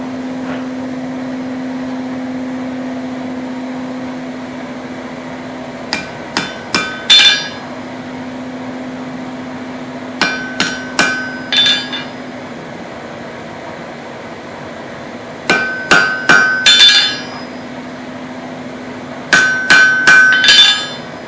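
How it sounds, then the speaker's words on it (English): Hammer tapping the jaws of V-bit blacksmith tongs tight around 3/8-inch square stock, in four quick bursts of three to five sharp metallic taps, each over a steady fan-like hum in a shop. "use my hammer to tap these ends down a little bit here, and then I'll flip it over, give it another little tap"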